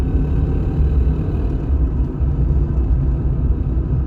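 A Holden Commodore VL Turbo cruises at low revs around 50 km/h, giving a deep, steady engine rumble and drone inside the cabin, loud and continuous with no talking.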